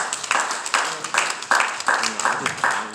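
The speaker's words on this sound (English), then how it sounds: "let's give these candidates a round of applause" A community forum audience claps for candidates, the clapping coming in a regular rhythm of about seven strong bursts over a soft bed of crowd noise.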